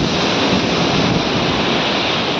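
Rough sea waves surge and break on Revdanda beach, a steady loud roar of surf with wind buffeting the microphone, and no one speaking.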